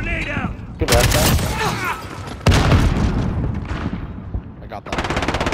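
Call of Duty: Modern Warfare match with a loud, close grenade explosion and bursts of rapid automatic gunfire, players chatting over the action.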